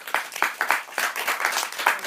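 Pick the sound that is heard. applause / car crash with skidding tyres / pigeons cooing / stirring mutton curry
applause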